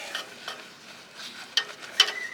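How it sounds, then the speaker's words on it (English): Brush scrubbing the wheels of a Subaru WRX, soft swishing strokes with a few sharper bristle scrapes, close and fairly quiet, no voices. "Same brush for the wheels. So I'm just gonna clean away."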